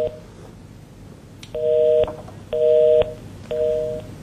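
Dropped telephone call followed by dialing tones, with three loud, evenly spaced electronic beeps about a second apart, clear and close with no talking.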